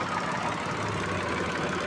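A Mitsubishi Mirage engine idles with a steady, dense rumble and a continuous shaking vibration, heard close and alone throughout.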